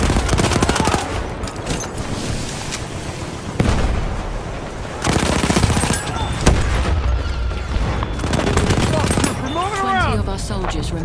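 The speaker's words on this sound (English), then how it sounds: "we are using the Automatico Trench variant. And I'm about to show you when you use this gun." Rapid bursts of automatic gunfire from an Automatico Trench variant in a World War I shooter game, loud and close, with pauses between volleys and explosions and battle sounds around them.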